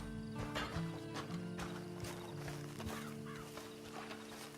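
Horse standing in Red Dead Online, with soft, close hoof shuffles and a few snorts over a steady game ambience, moderately faint and without any talk.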